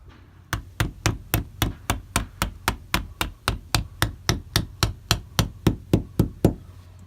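A hammer taps gently on a thermalite block on a new-build house, about twenty sharp, evenly spaced knocks in a steady rhythm, close by and alone.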